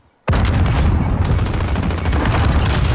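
Grenade explosions and gunfire in a competitive Call of Duty match: a sudden loud blast breaks in after near silence, followed by continuous rapid gunfire and booms, dense and close throughout.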